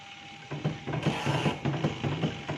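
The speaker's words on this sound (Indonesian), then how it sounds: "Berarti kita tinggal tes yang namanya pengering." A washing machine spin dryer runs close by with a busy, rhythmic mechanical whirring and clattering pulses that repeat throughout.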